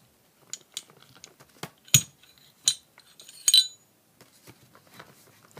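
A pistol is broken down into frame, slide, barrel, guide rod and recoil spring, giving a series of sharp metallic clicks and clinks with quiet gaps between them, close and fairly crisp.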